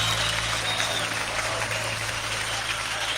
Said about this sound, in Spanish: levanta tu aplauso a Él fuerte